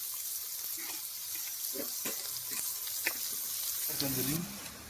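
Onions sautéing in a pan for a crab gravy, a faint, steady hiss of frying with a few soft scrapes and knocks, plus a low muffled voice or clatter near the end.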